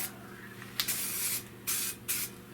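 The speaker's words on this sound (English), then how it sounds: "before I spray paint" Three quick bursts of POR-15 aerosol spray paint hissing from a can, close by, separated by brief pauses with low hum underneath.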